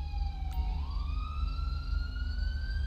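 A police siren wails steadily, its pitch sliding upward over a low engine hum; synthetic and clean, from an LAPD patrol car in the LSPDFR video game mod.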